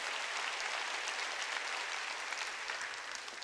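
A church congregation applauds during a Sunday worship service, a dense, even wash of many hands clapping that continues steadily without talk.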